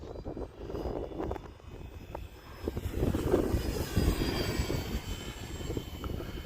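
An electric RC F4U-4 Corsair model airplane flies at about three-quarter throttle, its motor whine swelling and fading as it passes, moderately loud against outdoor background.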